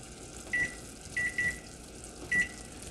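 A kitchen timer beeps four short electronic tones in an uneven pattern, two close together in the middle, over faint background hiss in a kitchen where sugar syrup boils for Italian meringue macarons.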